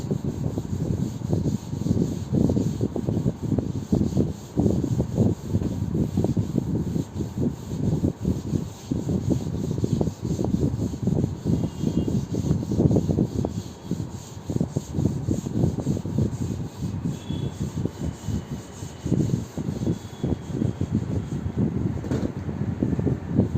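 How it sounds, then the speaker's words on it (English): A teacher erasing a classroom chalkboard, a loud continuous scrubbing and rubbing in rapid back-and-forth strokes lasting throughout, close and alone with no talk. "I am rubbing the board."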